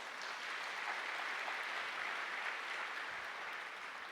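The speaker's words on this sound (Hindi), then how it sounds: "भाई ताली तो बजाओ जरा।" Audience applause at a Brahma Kumaris spiritual talk, a steady dense wash of clapping from a hall crowd that runs unbroken at even loudness for the whole stretch, with no voices over it.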